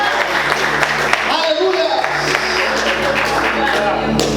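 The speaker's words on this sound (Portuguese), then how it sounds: "Mais forte as palmas." Loud, dense applause from a church congregation, with clapping filling the room and a voice speaking over it.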